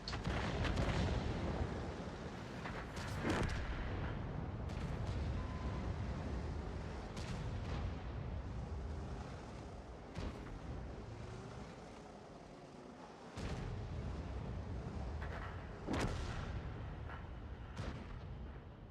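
Video game gunfire, with heavy booming blasts and rumbling explosions rising out of a dense, continuous battle din at irregular intervals, fairly distant and muffled, with no talking.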